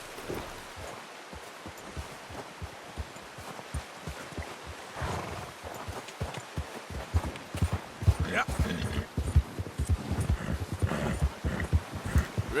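Horse hooves clip-clop in Red Dead Redemption 2, an irregular run of thuds that grows louder and busier toward the end, with rustling and an occasional voice mixed in.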